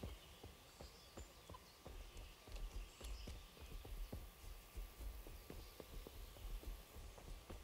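A horse's hooves clip-clop steadily in the Kingdom Come: Deliverance video game, an even walking rhythm set quietly against a faint outdoor ambience with occasional birds.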